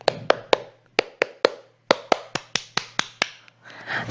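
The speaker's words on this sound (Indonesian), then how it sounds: "Ayo, kita melakukan ice breaking, tepuk semangat." A rhythmic clapping chant for classroom ice-breaking, heard as a sequence of sharp, evenly spaced claps in a patterned beat, close and clear, ending in a brief burst of looser clapping.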